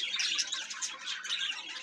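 Shrill chirps and squawks from white-face grey, white-face pied and cinnamon pearl cockatiels kept in a home aviary, a dense, continuous chatter of several birds at moderate volume for about two seconds.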